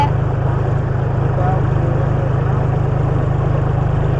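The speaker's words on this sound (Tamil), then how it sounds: "டிராக்டரோட ஒர்க்கிங் ப்ராசஸை பாருங்க" A tractor ploughs a farm field, a steady, close, low, throbbing engine drone that runs evenly throughout with a faint rumbling texture.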